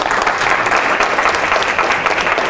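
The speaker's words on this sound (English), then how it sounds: "Give him an applause." Audience applause in a conference hall, a dense, steady wash of clapping from a crowd, loud and continuous throughout.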